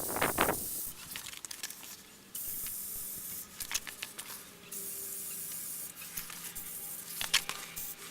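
Aerosol spray paint hisses in short bursts and longer passes as cassette tape parts are coated black, interspersed with light clicks and handling noises nearby, no talking.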